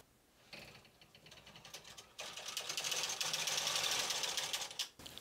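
An LK150 knitting machine knits a row of satin yarn, the carriage sliding across with a continuous mechanical clatter and whir that builds after a brief start, close and fairly quiet.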